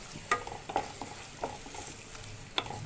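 Ginger garlic paste frying with onions in a pan, a steady soft sizzle broken by several scraping stirs of a spoon, close and fairly quiet, with no talking.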